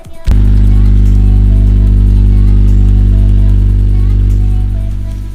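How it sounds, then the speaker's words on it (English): A car with an EJ2 engine and a freshly fitted exhaust fires up from a cold start, then holds a loud, deep, steady idle drone right up close, easing slightly at the end. "This is at cold start. I just cold started this car"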